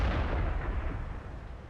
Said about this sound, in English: Yes, that is a 152mm cannon on the front of that tank.